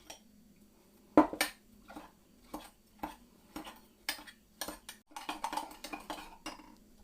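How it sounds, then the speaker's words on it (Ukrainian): Yeast being rubbed with sugar in a bowl for cherry pastry dough, heard as a series of quiet scraping and clinking strokes of a spoon against the bowl, irregular at first and then quicker, with no talk. "Готуємо тісто, дріжджі, розтираємо з цукром"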